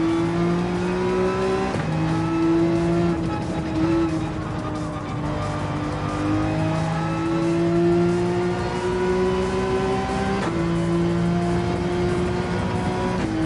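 A race car engine in Gran Turismo 7 revs loud and steady through gear changes, its pitch climbing and dropping as the car brakes into corners and accelerates out, with tire noise underneath and no voices.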